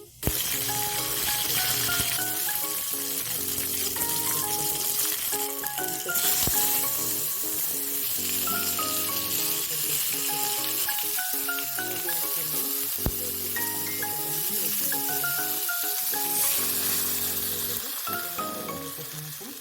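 Cumin seeds fry in hot oil while vegetable dishes are prepared for a Mahalakshmi puja, a continuous close sizzle running throughout with soft background music and no talk.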